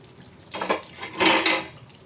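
A metal lid lifted off a pot of chicken rezala, a brief clink and scrape followed by a short swell of bubbling, steaming noise, close and quick.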